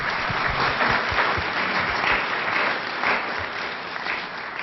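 At a 2017 spelling bee, the audience in an indoor hall breaks into steady, moderately loud applause after the first round, many hands clapping together with a few sharper individual claps standing out.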